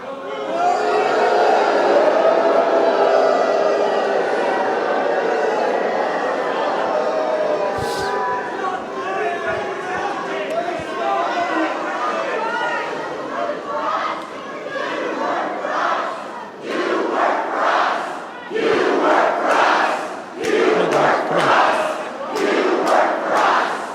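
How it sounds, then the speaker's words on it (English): Large crowd of frustrated citizens at a congressman's town hall meeting in Nevada County, shouting and chanting together, loud and sustained, with bursts of cheering and clapping toward the end. "So the crowd was shouting, "You work for us.""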